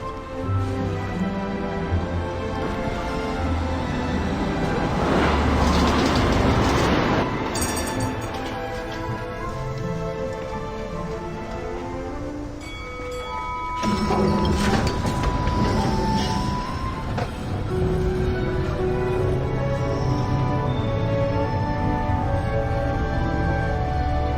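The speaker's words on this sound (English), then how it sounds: "But here's our tram." A tram ride in the video game Syberia: The World Before, a continuous rolling rumble of the car with faint clinks and a brief squeal, steady and moderately loud throughout.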